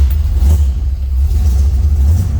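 A 1967 Chevrolet Malibu two-door hardtop with a fuel-injected 350 V8 and 4-speed manual idles right after a cold start, its steady low rumble loud and close and unbroken the whole way through.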